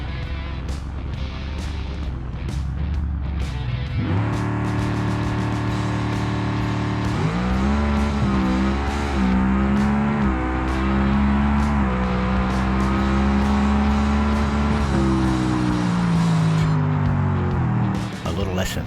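A Bruckell Bastion's engine roars through a BeamNG drag run in a 500 cubic inch naturally aspirated outlaw class, rising in pitch through the gears at near 190 mph, with a commentator talking throughout.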